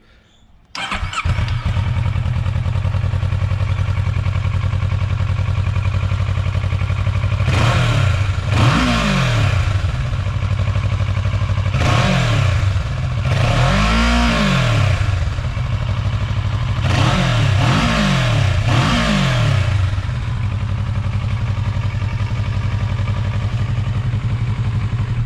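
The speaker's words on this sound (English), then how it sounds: "Comparison, this is the stock exhaust." A 2015 Kawasaki Versys 650 motorcycle on its stock exhaust starts, settles into a steady idle, then gets several sharp throttle blips, some single and some paired, rising and falling back to idle, loud and close.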